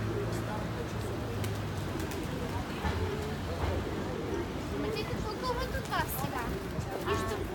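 Pigeons being fed on a busy city-center street in Sofia coo softly amid street bustle, with chatter and voices of passersby throughout and occasional footsteps and clatter.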